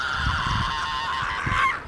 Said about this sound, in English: Two birds fighting.